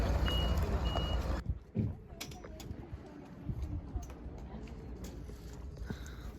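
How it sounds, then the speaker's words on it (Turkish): A truck's reversing alarm beeps in a campsite, heard at first loudly with steady rumble, then outdoor ambience follows with cooing pigeons and scattered clip-clop sounds, people talking nearby. "kamyon anne bu kamyon"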